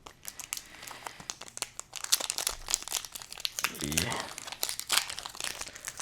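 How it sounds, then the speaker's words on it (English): Pokemon Temporal Forces booster packs are torn open with sharp crinkling and ripping of foil wrappers. Bursts of crackle come close and fairly loud, under and between a person talking. "We're gonna start with Temporal Forces and then do the Twilight Masquerade one."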